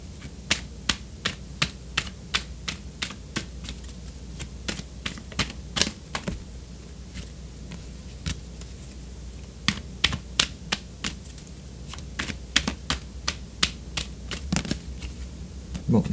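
Tarot cards being shuffled during a reading, giving quick, crisp riffling snaps in irregular bursts over a steady low background, close and fairly quiet with no talking.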